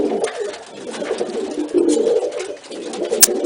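Male pigeons, mostly cocks, coo in a loft while displaying, a steady murmuring overlap of low throaty coos from several birds close by, with a brief sharp click near the end.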